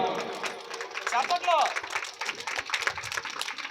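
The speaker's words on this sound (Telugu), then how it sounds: "గట్టిగా చప్పట్లో" Crowd applause at a semi-Christmas church event, a dense patter of many hands clapping loudly and continuously, mixed with voices and chatter.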